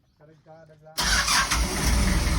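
A voice speaks briefly, then an engine cranks and catches about a second in, settling into a loud, close, rough running rumble that continues to the end.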